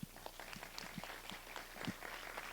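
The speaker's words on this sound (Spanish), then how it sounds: "Adriana Urbina, por favor, un aplauso." An audience at a Mexican film statistics yearbook presentation applauds; faint, distant scattered clapping from a crowd, with a few sharper nearby claps standing out.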